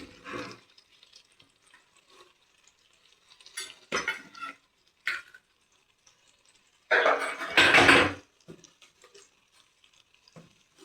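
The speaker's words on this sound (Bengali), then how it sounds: "এই মশলাটা একটু ভেজে নেব।" Ground masala mixed with yogurt frying in a pan for an egg dish, stirred with a utensil in intermittent scraping bursts, the longest and loudest near the end, over a faint sizzle.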